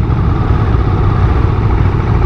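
A 2017 KTM 690 Duke motorcycle with its single-cylinder LC4 engine runs close by in a loud, steady, low rumble with no talking.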